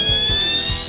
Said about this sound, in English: Here is an example of our emergency system alarm.